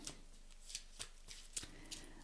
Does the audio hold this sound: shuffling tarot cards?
yes